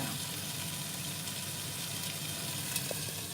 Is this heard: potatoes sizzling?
yes